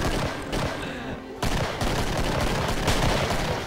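Rapid gunfire rattles in the video game Killing Floor Twisted Christmas. Dense bursts of shots run almost continuously, loud and close, with a short drop in volume partway through.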